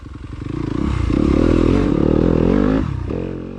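Yamaha YZ250F four-stroke dirt bike racing a rutted sprint enduro trail, its engine loud and close, revving and droning steadily with a brief dip near the end, plus scraping and clattering from the rough ground.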